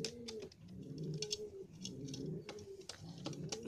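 Racing homer and Madrasi pigeons in Kolkata coo close by in a steady run of low, throaty, repeated calls, with faint soft clicks mixed in and no talking.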